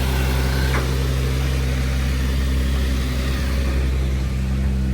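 An Audi S4 engine runs loudly and steadily close by, with a dense low-frequency drone and no clear rev peaks, alone with no voices.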